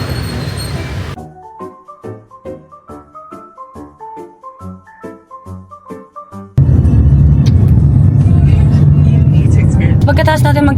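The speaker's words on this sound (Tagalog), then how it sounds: "Ito yung traffic pala. Traffic na yun guys." Busy street traffic in Vietnam: after a stretch of tonal, melodic sounds, a loud, steady wash of engine rumble and passing vehicles swells in and fills the second half, with voices talking nearby.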